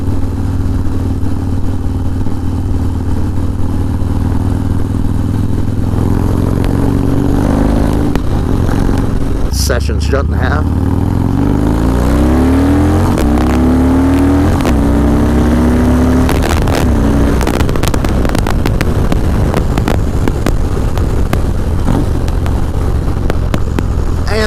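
A Harley-Davidson motorcycle engine roars up close, rising and falling in pitch as it accelerates through gears, with wind noise and a few brief spoken words.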